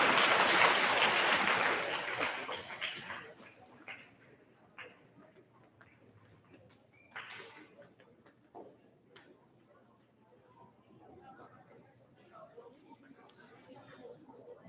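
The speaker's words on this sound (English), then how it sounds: "Let's give a round of applause to Mrs. Johnson's award winners" Audience applause for award winners at a middle school awards ceremony, a loud dense burst of clapping for the first few seconds that quickly fades to scattered claps and quiet room noise.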